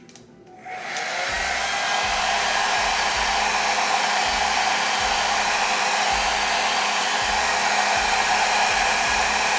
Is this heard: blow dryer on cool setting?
yes